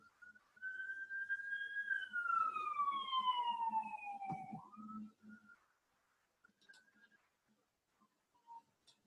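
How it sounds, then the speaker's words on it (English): An ambulance siren passes outside, a faint, steady, wavering tone that slowly falls in pitch as it goes by, then fades out, leaving near silence with a few small sounds. "there's the ambulance again"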